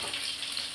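Dried red chillies crackle and fry in hot oil while mango kulambu is being cooked, a steady close sizzle with fine crisp spatter and no voices over it.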